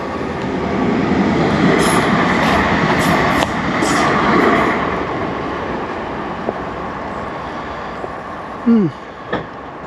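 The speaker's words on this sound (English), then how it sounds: "There's the train." A train rumbles past nearby, loud rolling wheels and clattering fading gradually, followed by a couple of short squeals and a faint voice.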